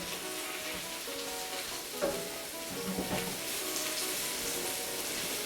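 Mushrooms for a chicken breast in mushroom cream sauce fry in a pan with a loud, continuous sizzle up close, a bright crackling hiss punctuated by a couple of stirring scrapes and knocks, with no talking.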